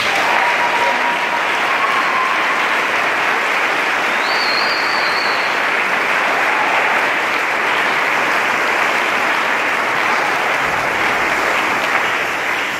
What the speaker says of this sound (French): je voudrais que, avec moi, nous puissions donner une slave d'applaudissements